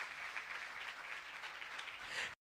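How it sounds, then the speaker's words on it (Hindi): A church congregation claps loudly for a steady two and a half seconds, a dense even patter that stops abruptly, heard fairly faint and with no voices over it. "मुकद्दस पौलुस की जात के लिए जोरदार तालियां बजाएं।"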